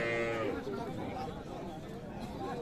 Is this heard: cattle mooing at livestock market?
yes